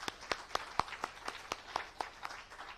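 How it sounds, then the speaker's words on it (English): Audience at a wildlife conservation conference clapping in a quiet, evenly paced rhythm of distinct sharp claps, somewhat distant and thin. "So big round of applause for them."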